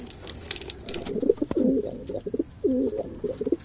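Pigeons coo in soft, low, rolling phrases close by in a loft, repeating with brief pauses against a faint background hiss.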